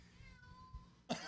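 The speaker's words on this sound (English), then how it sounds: "I can hear the cat. The mic is picking him up." A cat meows once, close to the microphone, a short sharp cry near the end after a stretch of quiet room noise.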